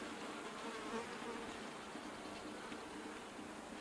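Honey bees from a gentle colony buzz steadily during a hive inspection, a dense continuous drone close by with no talk.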